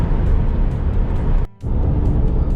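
Steady road noise and engine drone from inside a long-haul truck driving on a highway in Ukraine, loud and continuous, with a brief dropout midway before the rumble resumes.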